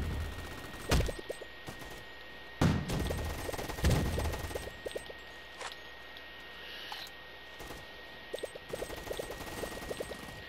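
Gunfire in the Roblox shooter Gunfight Arena: a few scattered sharp shots spaced seconds apart, mid-loud, with faint clicking game sounds between them and no talk.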